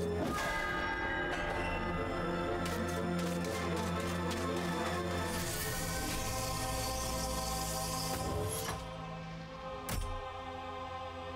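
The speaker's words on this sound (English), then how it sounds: "Bell." A bell tolls in the 2019 remake of the video game MediEvil, its long ringing overtones sustained loudly over game ambience, with a sharper strike near the end.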